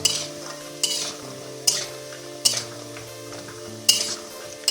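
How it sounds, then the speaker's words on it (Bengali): Soybean chunks frying in a pan until reddish-brown, a soft continuous sizzle broken by several sharp metallic clinks and scrapes of a spatula against the pan at irregular intervals, close by. "একদম সুন্দর সোয়াবিনগুলো ভাজা হয়ে গেল লাল লাল করে"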